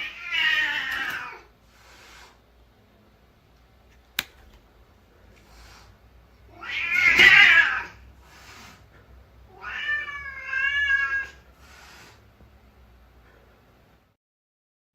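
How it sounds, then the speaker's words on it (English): Pet cat, a two-year-old ten-pound female, making odd yowling, caterwauling calls played back from a phone recording: three drawn-out wavering cries separated by quiet gaps, moderately loud over faint hiss. "This is the video of the weird noise Jake's cat made."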